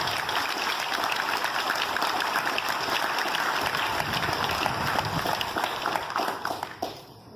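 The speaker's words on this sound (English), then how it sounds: "Let's give a round of applause" An outdoor audience at a post office dedication ceremony claps steadily in a dense, sustained round of applause that tapers off near the end.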